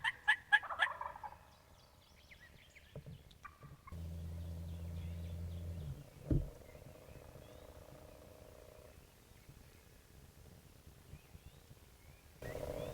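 A wild turkey hen gives a quick series of sharp yelps at the start, followed by fainter clucks and purring in a quiet Michigan woods during a spring hunt.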